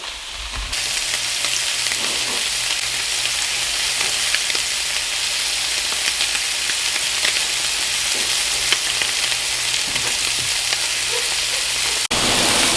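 Striped bass fillets sizzle steadily in a hot skillet, a dense, even frying hiss that runs almost the whole time with no talking over it.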